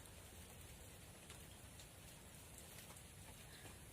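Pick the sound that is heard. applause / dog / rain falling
rain falling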